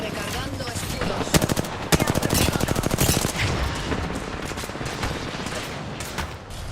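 Rapid bursts of video game gunfire, loud and close, with dense automatic volleys broken by short pauses and a few sharper single shots, while game chatter runs underneath.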